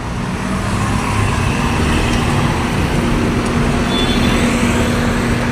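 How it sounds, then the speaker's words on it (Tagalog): Steady downtown road traffic in Cebu, heading from Robinson toward Colon at midday: a continuous, fairly loud rumble of cars, trucks and buses with a low engine drone throughout and no one talking. "Traffic situation karong udto dinhi sa Robinson going to Colon downtown."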